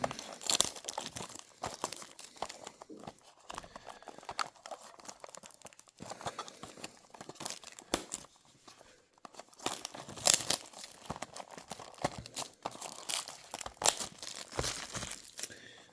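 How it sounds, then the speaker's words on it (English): Plastic wrap on a diecast toy car box being cut and peeled away with a knife, giving close, irregular crinkling and tearing rustles with sharp crunchy bursts throughout. "Okay, let's get a knife. Take the plastic off."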